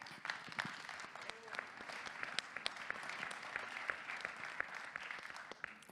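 Convention audience applauding, a dense, even wash of many hands clapping at moderate distance, sustained throughout with sharper individual claps standing out, fairly quiet overall.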